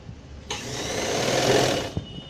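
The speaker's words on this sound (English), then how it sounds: "stitch all the sides together so it doesn't move when you make your final stitching thing" A sewing machine runs a short burst of stitching on gown fabric, a steady whirring hum for about a second and a half that starts and stops abruptly, close and loud, with no talking.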